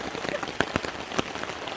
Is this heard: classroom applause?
no